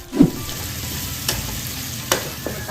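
Onion, curry leaves and green chilies sauté in a pan with a soft, constant sizzle, broken by a few spatula stirs and scrapes, heard up close without speech.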